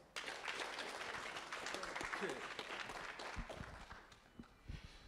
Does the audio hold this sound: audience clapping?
yes